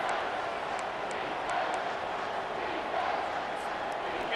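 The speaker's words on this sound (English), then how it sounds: "The crowd elevating its energy, willing this defense to get a stop on this big third down" Stadium crowd in EA Sports College Football 25 roaring in a steady, loud wall of noise during a big third-down defensive stand, with commentary over it.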